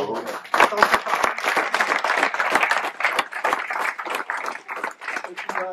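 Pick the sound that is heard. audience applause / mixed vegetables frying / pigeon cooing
audience applause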